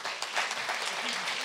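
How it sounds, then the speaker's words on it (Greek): Warm audience applause at a Greek women's business association presentation, a steady wash of clapping lasting the whole moment, moderately loud with no talk over it. "Εδώ θέλω ένα πολύ καλό χειροκρότημα για να τα ανεβάσουμε πάνω."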